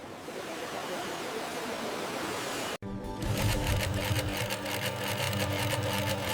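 An industrial sewing machine stitches bras in a factory, a steady close whirring hum that cuts out briefly and resumes with a busier, rattling rhythmic drone.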